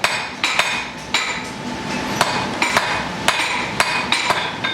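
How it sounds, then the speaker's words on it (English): A hammer strikes a bodkin arrowhead on an anvil at a forge, giving sharp metallic rings in an irregular rhythm of about a dozen blows, loud and close with a steady background hiss between strikes. "Hammer that into the anvil."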